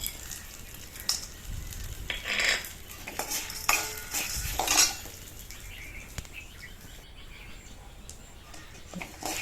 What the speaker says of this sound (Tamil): கொஞ்சம் லாஸ்ட்டாக போட்டு அப்படியே வறுத்து எடுத்துக்கலாம்.